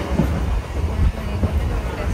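DEMU passenger train running from Repalle to Tenali, a steady rumbling rattle of the carriage heard from on board with wind noise over the microphone.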